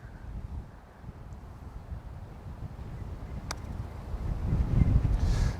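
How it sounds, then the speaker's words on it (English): Wind blowing across an open golf course, a steady rumbling buffet against the microphone that swells louder toward the end, with no talking. "That is windy."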